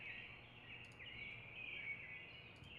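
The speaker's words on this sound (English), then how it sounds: "All I hear is birds." Video game ambience of birds chirping: faint, high, continuous twittering and whistles layered over a soft steady background hiss, with no voices.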